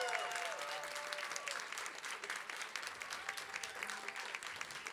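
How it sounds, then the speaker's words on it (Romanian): A live show audience applauds to welcome a violinist-singer at a Gipsy Serbia music night; dense, even clapping fills the room for five seconds, a voice briefly audible at the start. "Vă rog să-l primiți cu aplauze."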